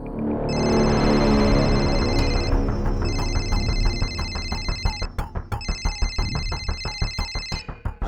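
A telephone rings inside a house, loud and close, its electronic ringtone repeating in bursts over a low musical bed with no one speaking.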